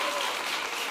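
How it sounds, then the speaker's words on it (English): A summit audience gives a brief burst of dense, steady applause, heard up close for about a second. "Okay, so again, a round of applause."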